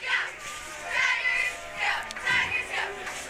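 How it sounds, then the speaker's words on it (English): A cheer squad chants in rhythmic bursts at a college football game, several rising shouts about a second apart, loud and echoing across a large open stadium. "Probably hear the cheer squad trying to get it amped back up"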